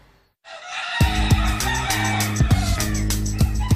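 Nine hens and five chicks cluck and crow loudly and continuously at an animal shelter, with sharp repeated calls over a steady din of a flock close by.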